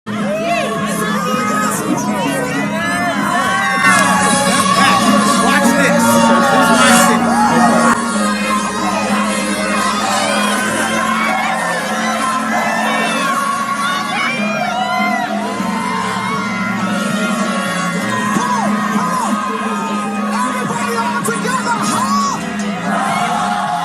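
A large crowd at Kanye West's outdoor Sunday Service show in Chicago cheers, whoops and yells continuously, a loud, dense roar of overlapping voices and shrill calls that holds steady throughout.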